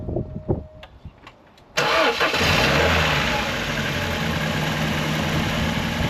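A 25-year-old car's engine cranks with a few sharp clicks and bursts, then catches and settles into a loud, steady idle close by; a voice is heard briefly beforehand.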